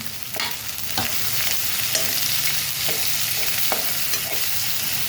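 Two large onions stir-fried in hot oil with green chillies and garlic, giving a steady close sizzle with repeated scrapes and clacks of a spatula against the pan.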